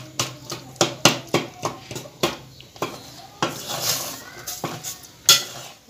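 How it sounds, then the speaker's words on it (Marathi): Mutton stirred and broken up in a pot over a high gas flame, a quick series of sharp metal spoon knocks and scrapes against the pot, close and loud, over a low sizzle. "मोठा गॅस करून फोडत फोडतच याला हलवत राहायचं"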